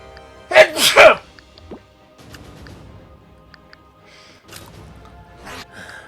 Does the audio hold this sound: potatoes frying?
no